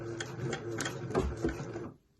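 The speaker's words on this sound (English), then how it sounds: "Now what I want to do is just lock the stitches with a little back tack." A home sewing machine runs a short back tack on elastic for a tee sleeve, a quick rhythmic series of needle strokes with light mechanical clatter that stops abruptly.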